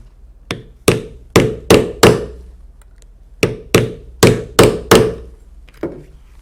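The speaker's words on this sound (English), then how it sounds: "set the clasp in place, put the caps on, and set with the rivet setter." Sharp metal hammer strikes on a rivet setter, setting rivets and caps on a steampunk belt-bag clasp: two close, loud bursts of five blows each in a steady rhythm, separated by a brief pause, with no talking.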